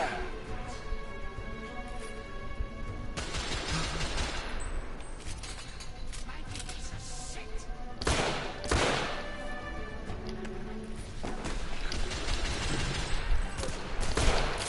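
Sustained gunfire in a shooter video game, with dense rapid bursts and heavier booming volleys that stay loud and continuous throughout, swelling at several points.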